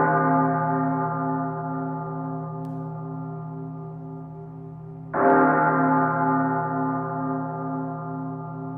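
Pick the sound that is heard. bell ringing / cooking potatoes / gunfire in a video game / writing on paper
bell ringing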